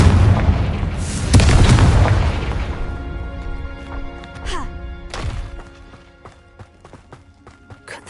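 A Confringo fire spell blasts in the Hogwarts Legacy game with a loud, heavy explosive boom, rumbling on and trailing into a couple of smaller crackling impacts and debris sounds before fading.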